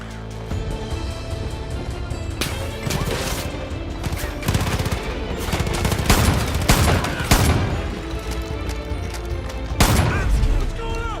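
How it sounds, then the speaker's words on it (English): Bursts of gunfire and booming shots crack repeatedly in the Far Cry 5 video game, loud and irregular over a dense backdrop of battle noise, with voices talking intermittently. "Who are they shooting at?"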